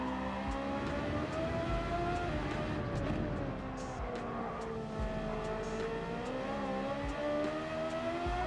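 A Ferrari engine howls steadily through a fast lap of the Nürburgring Nordschleife, loud and close throughout, its pitch climbing and falling with upshifts and downshifts, with no talking over it.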